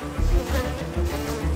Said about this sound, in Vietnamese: Dùng hàm giữ một con ong, nó bắt đầu đánh chém.